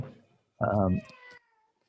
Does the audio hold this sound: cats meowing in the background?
yes